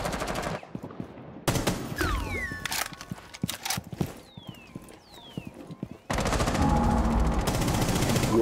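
Gunfire in the shooter game Rainbow Six Siege comes in bursts of rapid automatic fire at the start and end, with scattered single shots, clicks and whistling effects in the quieter stretch between.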